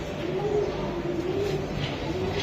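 Chila pigeons coo softly at a pigeon market, low rolling coos repeating in a gentle rhythm close by over a steady background murmur.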